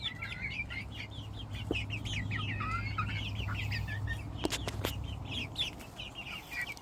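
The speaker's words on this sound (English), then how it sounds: "That's the solid black frizzled Polish." A solid black frizzled Polish chicken clucks softly over a steady low hum in a coop. Thin chirps and clicks from other birds sound through it, and the whole scene is faint.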